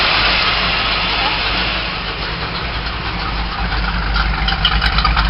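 An old stock car engine idling with its exhaust note, a steady rough rumble heard close and loud throughout.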